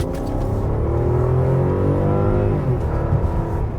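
A 2021 Rolls-Royce Ghost sedan accelerating hard, its engine note a steady, loud rumble that climbs smoothly in pitch as the large car gathers speed, with no voices over it.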